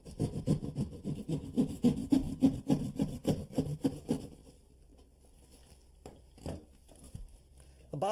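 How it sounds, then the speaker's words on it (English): A hand saw cutting a wider opening in a wall for an electrical box, rapid rhythmic rasping strokes close by for about four seconds, then quiet with a few scattered knocks and scrapes. "So you're actually going to cut this hole a little bigger right now."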